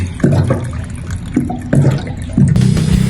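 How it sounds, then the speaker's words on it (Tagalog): Water runs and splashes steadily, with a few louder gushes and a close, rushing flow. "Tubig."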